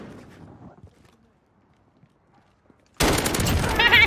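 Gunfire in a team deathmatch video game: after about three seconds of near silence, a loud, sustained burst of rapid automatic shots erupts and continues to the end.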